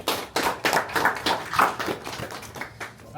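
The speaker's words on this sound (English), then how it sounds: "I just want to give you guys a round of applause" A small audience at an in-person book signing event clapping, a loose cluster of sharp individual claps close by that swell and fade unevenly over a few seconds.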